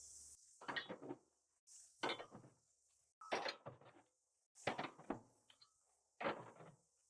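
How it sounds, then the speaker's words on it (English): Metal grill grates are lifted out of a Char-Griller Gravity 980 with a grate removal tool, giving five separate clanking, scraping bursts with quiet gaps between them, close and fairly soft. "our grates we can remove very easily"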